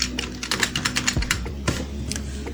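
Rapid typing on a computer keyboard, a quick run of close, crisp key clicks with a couple of heavier thumps, heard alone without talk.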